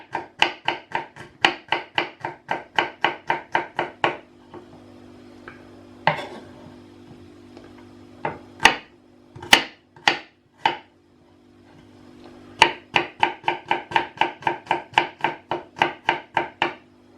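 Rapid, even knife chops thud on a cutting board as garlic is minced in quick bursts, with a pause of scattered single taps before the fast chopping resumes.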